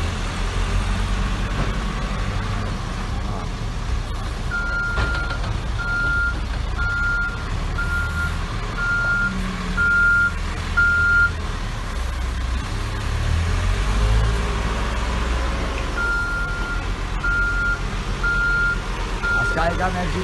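Caterpillar CAT 416E backhoe loader working on an earth-loading job, its engine rumbling steadily while a reversing alarm beeps in regular bursts, mostly in one run mid-way and again near the end.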